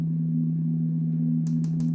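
A steady sine-like tone from a modular synth passes through a Mutable Instruments Clouds granular module with stereo spread, humming low and constant, and near the end a few short, bright, chirping grain bursts flicker over it.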